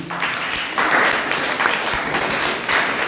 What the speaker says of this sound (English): Please clap for you.